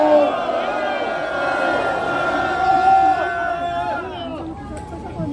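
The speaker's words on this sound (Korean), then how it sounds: "함성 한번 질러주십시오" A large crowd at a Gyeonggi provincial party rally in South Korea roars and shouts together, many voices raised in a sustained, loud cheer that wavers and trails off near the end.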